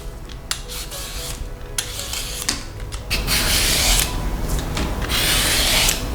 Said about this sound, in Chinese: 先把大黄瓜的皮削掉